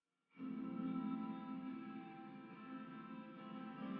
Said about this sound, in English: Sometimes you can get pads kind of strictly with your guitar just by adding some reverb